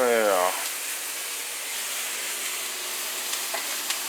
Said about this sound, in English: you sear them onions, Charlie